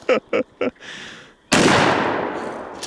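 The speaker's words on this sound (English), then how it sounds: "You only have 4 more shots to go." A shotgun or rifle fires at targets on a shooting range, one loud sharp blast with a long decaying echo, preceded by a few short spoken words.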